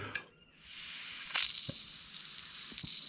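A steady airy hiss of air blown through a flooded Edelbrock carburetor, with faint gurgling and small fuel-bubbling pops scattered throughout, fairly quiet and close.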